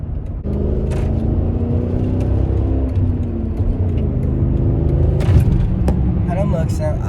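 A Chrysler 300C with a 5.7L Hemi V8 and straight-piped exhaust idles with a loud, deep, steady rumble nearby, and people talk over it throughout.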